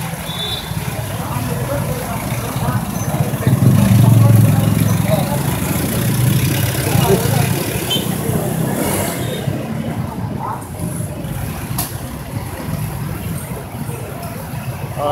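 Motorcycle engines idle and rev at a roadside police checkpoint, a low rumbling drone that swells early and stays continuous, with voices and crowd noise over it.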